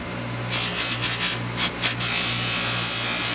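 A powered buffing wheel with polishing paste works ice auger blades, giving a steady whirring rub broken by several short bursts of grinding contact, then a continuous louder hiss of polishing as the blade is held against the wheel.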